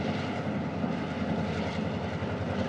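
A freight train hauled by HLCX locomotives rolls past pulling a long string of empty flatbed cars, a steady, fairly loud low rumble with a faint rhythmic clatter from the wheels.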